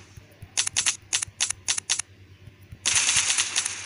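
Rapid bursts of gunfire crackle in short clusters in a jet fighter combat video game, then a sustained burst of automatic fire roars near and loud at the end.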